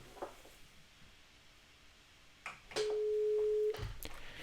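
Intercom call on Genetec security software, a steady electronic ringing tone sounding once for about a second amid faint clicks and soft handling noise.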